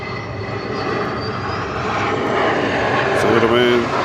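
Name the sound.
Boeing 717 jet landing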